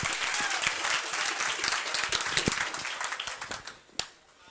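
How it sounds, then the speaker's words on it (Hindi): A seminar audience applauds steadily, dense clapping that thins out and tapers off, ending with a single sharp clap. "एक बार जोरदार तालियां हो जाए सर के लिए"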